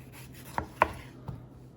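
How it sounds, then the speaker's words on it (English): A knife cuts down through a red pepper into julienne strips, giving three soft, separate chopping thuds against a board, quiet and close with no talk. "This is how I like to cut peppers to get my nice julienne strips. So I just cut straight down the sides."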